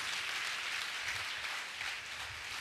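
Sustained applause from a church congregation at a Hindi Bible service, many hands clapping together in a dense, steady roar that holds evenly throughout without any speech.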